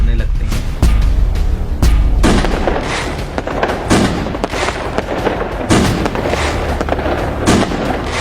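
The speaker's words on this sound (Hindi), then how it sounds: "12 बजते ही फायर क्रैकर्स फूटने लगते हैं।" Firecrackers burst at midnight on New Year, with a run of loud sharp bangs and booms spaced irregularly, some deep and some crackling, over a continuous noisy background.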